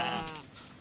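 A sheep from a shepherd's flock lets out a single short bleat, wavering and fairly faint, fading out within a second.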